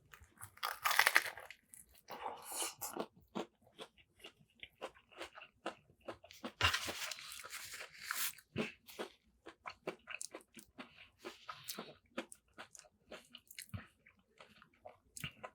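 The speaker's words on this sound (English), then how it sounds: "I like the crunch more than I actually like the taste. Because the crunch, the texture of it's so good." Close, loud crunching bites and chewing of a large crispy fried spring roll dipped in sauce, a long run of sharp, irregular crackles and munches with no talking.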